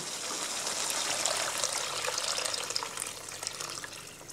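Water pours steadily into a cooking pot with a continuous splashing rush, close and fairly quiet, lasting a few seconds.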